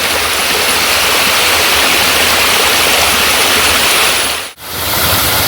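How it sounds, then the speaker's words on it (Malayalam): A small forest stream at Poomala waterfalls rushes loudly and continuously close by, a dense, unbroken wash of flowing water with no voices. "ഈ ചോല ഒഴുകി ഒലിച്ചിട്ട് കണ്ടോ നേരെ നമ്മുടെ ഡാമിലേക്ക് എത്തിച്ചേരും."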